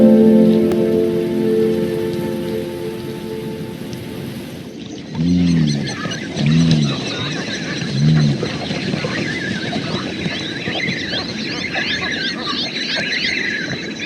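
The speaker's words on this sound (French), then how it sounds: "Une fois la pluie passée" Steady rain pours down outdoors, a dense, even hiss heard close by that runs on after a brief opening of music. A few honking bird calls break through the downpour.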